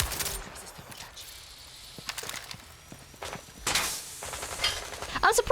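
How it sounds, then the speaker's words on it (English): Pellet gun firing in a competitive ranked shooter game: several sharp, clipped reports scattered through the stretch, with a rapid burst near the end, over a low game ambience. "that's the pellet gun"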